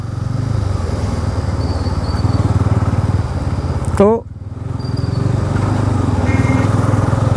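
Bajaj Pulsar N250 V2, a 250 cc motorcycle, ridden near India Gate with a steady engine drone throughout and someone talking over it.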